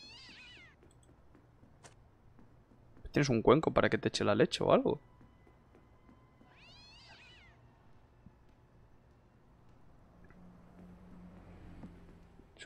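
A cat meows a few times in the video game 2Dark, short cries standing out over a quiet ambient hum, while someone speaks briefly in between.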